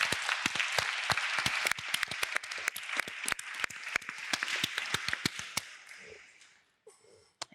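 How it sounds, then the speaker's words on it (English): Audience applause at an international peace conference, dense clapping with distinct sharp hand claps up close, thinning out and fading to near silence by the end. "please give a round of applause to our experts"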